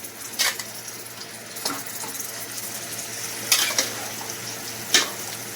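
Marinated chicken frying in a pan for Andhra chicken curry, a steady close sizzle broken by a few sharp clinks and scrapes of a spoon stirring against the pan.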